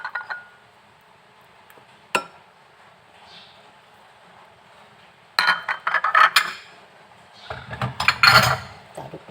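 A spoon stirring broth with shallots and spring onion in a metal pot for pempek, giving sparse clinks, then clusters of scraping and clattering against the pot, close and fairly quiet with no talk.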